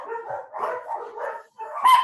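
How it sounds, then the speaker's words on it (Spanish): Several dogs bark indoors in a home, loud and close, in three or four quick bursts with a short gap, ending in a higher yip. "estos perros míos también me van a enloquecer"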